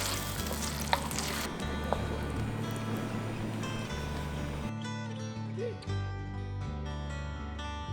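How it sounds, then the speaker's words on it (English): Mapo tofu sauce of sesame oil, chicken broth and shoyu being stirred in a hot pan, a steady close sizzle with soft scraping, the frying quieting briefly near the end before resuming. "Stir until it is nicely incorporated with everything."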